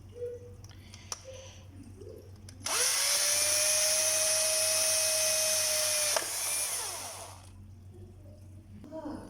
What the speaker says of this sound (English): so we're going to drill some holes now